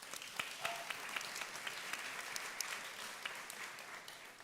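A summit audience gives a round of applause, many hands clapping in a steady moderate wash heard from a distance, with no talk.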